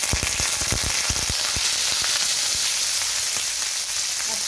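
Green chili and curry leaves sizzle in hot oil with a steady, loud frying hiss, crackling pops scattered through the first seconds and thinning out later.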